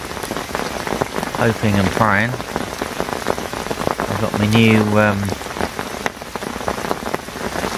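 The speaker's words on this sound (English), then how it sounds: "out of the rain" Steady heavy rain pattering on an umbrella beside an estate lake during fishing, a dense, close, continuous drumming with someone talking over it.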